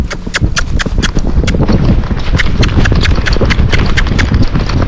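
Tennessee Walking Horse hooves striking the ground in a fast, continuous rhythmic clip-clop, loud and close, the gait quick and driving as the horse moves uphill.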